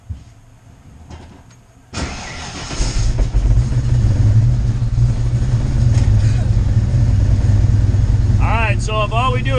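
A car engine cranks and catches, then settles into a steady, loud running rumble that continues to the end, with a faint chirping or squealing sound appearing near the end.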